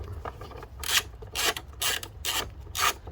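A hand tool undoes a reverse Torx bolt at the front of the battery in a Mercedes A220. It makes five loud, close, rasping ratchet strokes in an even rhythm over a low background hum.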